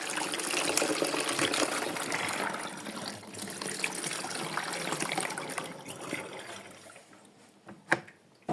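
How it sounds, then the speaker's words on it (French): Water pours steadily into a pot of soup with a continuous splashing trickle that gradually thins out, ending in a few faint drips and a sharp clink near the end. "On remet un peu d'eau."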